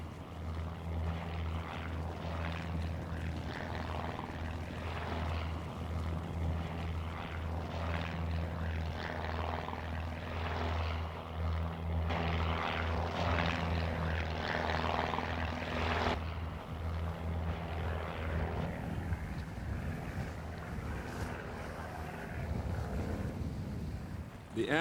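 Steady droning hum of a propeller airplane flying, used for monitoring rhinos, with a continuous low engine tone and wind buffeting, moderately loud and unbroken throughout; no talking.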